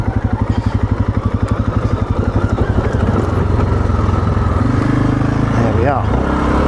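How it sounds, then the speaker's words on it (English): An off-road motorcycle engine braking on a descent along an off-road route: a close, loud, steady low throbbing putter that rises slightly and smooths out, with a voice talking over it. "Better to get the engine braking than potentially overheating the discs."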